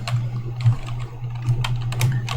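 Quick keystrokes on a computer keyboard, close and clear, tapping in short uneven runs over a steady low electrical hum.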